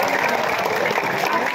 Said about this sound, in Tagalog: Palakpak na Roma, palakpak nila.